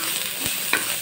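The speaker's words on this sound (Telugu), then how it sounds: "చూడండి ఇలా ఆయిల్లో మగ్గించుకోవాలి." Peanut chutney ingredients with coriander cooking in hot oil, a close, continuous sizzle with a couple of brief stirring scrapes over about a second.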